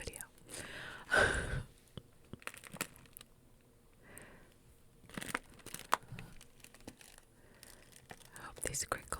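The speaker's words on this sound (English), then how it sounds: "to crinkle not just tea bags, but the big packets of loose leaf tea" A big packet of loose-leaf gingerbread black tea is crinkled close up in scattered rustling bursts, the loudest near the start, with soft whispered speech between them.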